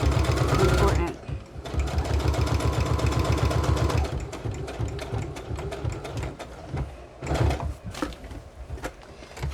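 A sewing machine stitches pages of a baby book journal in fast, rhythmic bursts, running steadily, then stopping and restarting in shorter runs, with someone talking in between.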